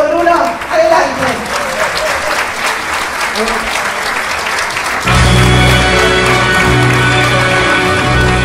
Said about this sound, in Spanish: por quien pido, por favor, un cariñoso aplauso